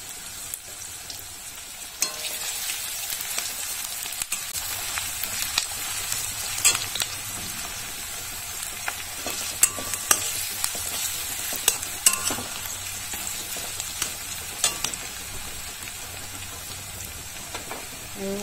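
Onions frying in oil in a pan, with a bay leaf and a few potato pieces, sizzle steadily while being stirred, with scraping clicks of the spoon over a continuous hiss; no talking.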